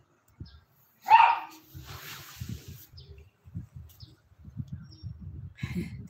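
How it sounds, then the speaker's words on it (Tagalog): A dog outside gives one sharp bark, followed by quieter low background sounds. "May aso sa labas."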